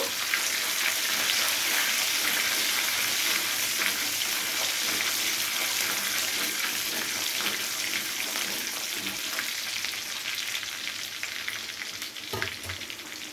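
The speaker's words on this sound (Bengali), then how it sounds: "কিছুক্ষণ নাড়াচাড়া করে ভালো করে ভেজে নেওয়া হয়ে গেলে" Paneer pieces with spices frying in a pan for a vegetarian restaurant-style masala paneer, a steady loud sizzle lasting throughout with stirring scrapes and a brief clink near the end, no talking.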